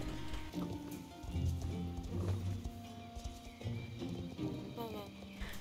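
Hooves of a Lusitano horse in the video game Star Stable Online clip-clop in a steady rhythm, with occasional snorts and whinnies, under a person talking and soft in-game music.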